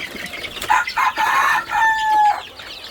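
Desi hens cluck and call in short, loud bursts on a free-range village poultry farm, one drawn-out squawk standing out near the end, with no talking.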